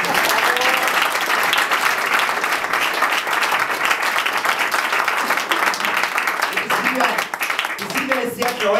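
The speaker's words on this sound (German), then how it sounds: "Bitte noch einen Applaus." Loud audience applause at a stage show in Graz, sustained dense clapping from a large crowd, with cheers and a few voices rising near the end.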